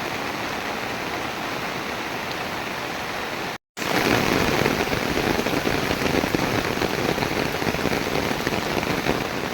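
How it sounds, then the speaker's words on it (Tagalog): Strong floodwater rushes through an overflowing creek in a flooded barangay in Palompon, Leyte, a loud, steady roar throughout, broken by a split-second dropout near the middle. "Ayan, sobrang lakas talaga ng tubig."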